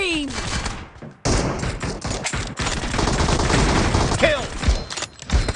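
Video game team deathmatch gunfire, loud rapid bursts and fusillades up close, with a brief lull, explosions and whizzing effects, and game announcer voice lines mixed in.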